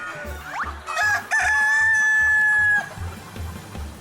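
Chickens on a farm gather to eat insect frass, with one rooster crowing a loud, drawn-out cock-a-doodle-doo over soft clucking and a rhythmic low thumping background.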